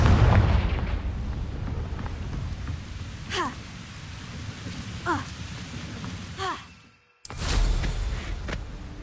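Confringo fire spells burst in Hogwarts Legacy: three or four sharp explosive booms ring out at intervals over a hissing, rain-like background, and the sound briefly cuts to near silence before the noise returns.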